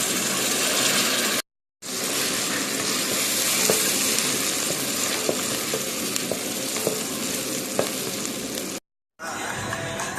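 Onions fry and brown in a pan for a Chadian okra sauce, a continuous loud sizzle with occasional pops and scraping stirs, broken by two brief cuts to silence.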